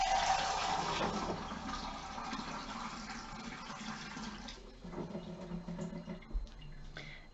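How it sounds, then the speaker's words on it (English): An extra pint of water is poured in while preparing a yarn dye bath, a steady rushing fill that runs for several seconds before easing into quieter splashes and handling noises. "I'm going to add an extra scoop of an extra pint of water."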